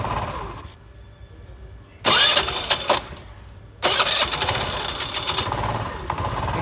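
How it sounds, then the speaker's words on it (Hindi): An old-model Honda Activa scooter with a clutch and sound problem self-starts: two bursts of loud starter whirring and engine catching, the second running longer, separated by quieter idle. "सेल्फ मरवा के दिखाता हूँ मैं आपको।"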